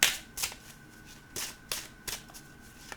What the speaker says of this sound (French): je vais prendre une carte de Enchanted Spell Oracle